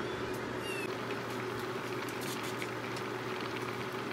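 Steady bubbling and simmering of a boiling pot of pork sinigang soup, a constant close hiss with faint popping, no talking.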